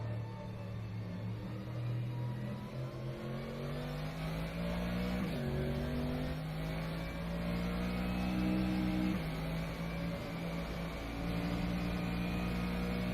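Mercedes AMG GT3 race car in rFactor 2 at Silverstone on a wet track, its engine droning loud and steady throughout, with rising tones through the gears and brief dips at two gear changes.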